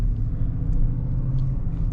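Inside a 2022 GMC Yukon SLT rolling over speed bumps, a steady low road rumble and engine drone fills the cabin with only faint soft thumps and no talk.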